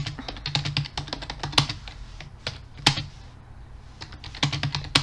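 Rapid clattering keystrokes on a computer keyboard while typing a message, uneven bursts of close, crisp clicks with brief pauses and a few louder key strikes, no talking.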